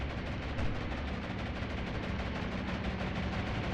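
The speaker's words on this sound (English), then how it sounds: "Flak is heavy." Heavy flak from anti-aircraft guns in a naval battle in the Atlantic Fleet video game makes a dense, continuous roar of rapid firing and bursts at a steady loud level.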